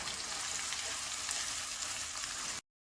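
Sliced onions fry in hot oil with whole garam masala for a fish curry, giving a continuous even sizzle close up that cuts off abruptly into silence.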